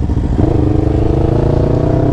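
A Yamaha MT-03 motorcycle, fitted with an aftermarket exhaust, pulls hard from close by, its engine note climbing with a busy, throbbing exhaust rasp across a brief, continuous burst.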